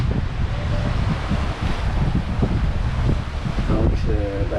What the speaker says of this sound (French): Là, il y a une vague qui arrive, c'est un monstre.